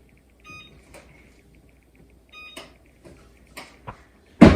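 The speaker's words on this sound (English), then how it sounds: "we're going to turn the oven on to 350" An oven being switched on and set to temperature gives a few short electronic beeps separated by pauses, with soft button taps and a louder knock at the end, in a quiet kitchen.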